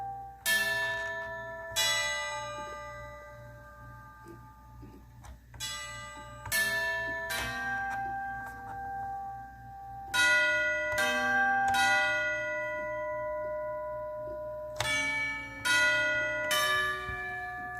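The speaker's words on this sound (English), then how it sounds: "there are chimes echoing from the steeple" Church steeple bells chime in slow, separate rings, each strike bright with a long ringing decay; about nine clusters of strikes over a low steady background hum, no talking.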